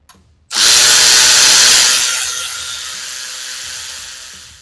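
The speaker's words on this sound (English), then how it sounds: "now we're going to go ahead and remove the 4mm Allen bolt from the front brake" Power tool removing a 4mm Allen bolt from the front brake lever of an Aprilia Tuono 660, a loud close whirring burst that starts abruptly and slowly eases off over several seconds.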